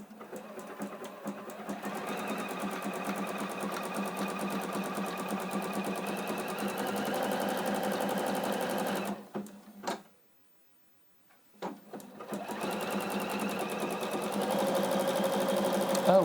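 Juki NX7 sewing machine zigzag stitching at its fastest speed with the foot pedal pressed: a steady, loud mechanical whir with rapid needle ticking that stops for about two seconds of silence, then starts again and runs on.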